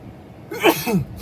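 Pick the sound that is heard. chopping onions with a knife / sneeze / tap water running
sneeze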